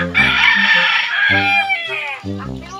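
A rooster crows loudly and close by, a long strained call followed by two shorter crows in quick succession.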